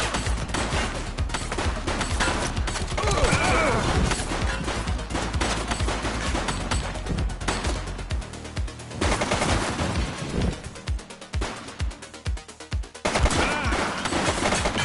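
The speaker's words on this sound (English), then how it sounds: "Shooting! One less bad guy." Bursts of gunfire from The Precinct video game arrive as rapid, loud volleys of shots, with dense automatic fire broken by short gaps and closing on another heavy burst.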